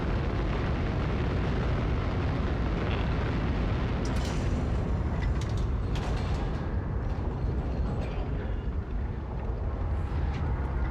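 Explosion in the game Once Human: a dense, loud rumbling blast that fills the whole clip, with crackling debris bursts surging in the middle and a steady low roar throughout.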